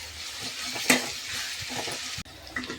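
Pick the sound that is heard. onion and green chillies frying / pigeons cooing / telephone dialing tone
onion and green chillies frying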